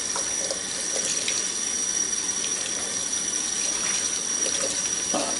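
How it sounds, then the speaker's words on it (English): Water runs steadily from a kitchen faucet into a sink while parts of a Waring food slicer are rinsed, a continuous close hiss and splash with faint clinks of parts. "you rinse the studs off of it real good"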